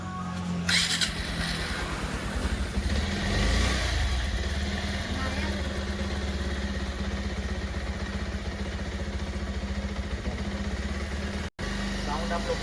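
A Bajaj Pulsar 125cc BS6 motorcycle engine idles steadily up close after repair, a continuous low rumble with light mechanical clatter, a brief rev early on and a short cut near the end.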